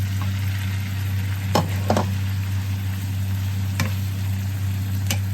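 Eggplant and minced pork stir-fried in a pan, a steady sizzle with a constant low hum beneath and a few sharp scraping clicks of the utensil against the pan, close and fairly loud throughout.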